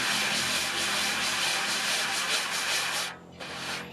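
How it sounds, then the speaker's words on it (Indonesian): Steady abrasive rubbing as sandpaper works over a dried wooden kompang drum shell, a continuous broadband scratching that runs close and loud before briefly dropping away near the end. "Tunggu sampai mengering ininya. Ya, ini Ini yang sudah kering. yang sudah kering. Kita amplaskan."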